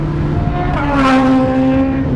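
Suzuki Hayabusa motorcycle fitted with a Brocks exhaust on a highway ride, a loud, close engine drone that rises in pitch midway as the rider accelerates.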